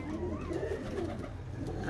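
Pigeons kept for flying coo close by in a soft, continuous low warble, several overlapping rolling calls with no voices.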